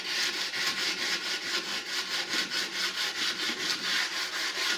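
Sandpaper worked by hand along a steel knife blade, a steady rhythmic back-and-forth rasp with regular strokes, close and continuous with no talk.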